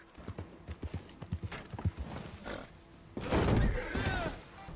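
Horse hooves clip-clopping in a video game, a close run of evenly spaced thuds followed by a louder rough, rumbling burst.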